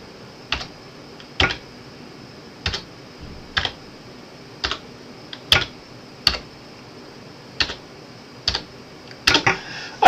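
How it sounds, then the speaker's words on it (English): A computer keyboard is typed on in slow, separate keystrokes, about a dozen crisp clicks spaced across a quiet room, with a short quicker burst near the end and no talking. "so I'm just going to type it again"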